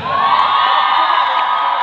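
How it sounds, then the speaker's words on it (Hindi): A live audience cheers and whoops for two guitarists at a popular-covers concert, a dense, steady roar of crowd voices with some shouting, loud and continuous throughout with no clear applause claps standing out. "गिटारिस्ट दोनों के लिए जोरदार तालियां"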